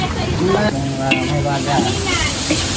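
Food frying and sizzling in a cooking pot over a stove, a steady hiss running throughout, with voices talking over it.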